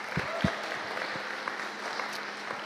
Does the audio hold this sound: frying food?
no